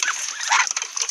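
Close clucking and short calls from chickens on an Assam farm sound in a quick, uneven series with no talking.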